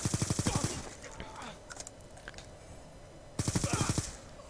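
Rapid automatic gunfire bursts in Call of Duty: Black Ops 2, with a rattling volley at the start and another near the end, separated by quieter game ambience.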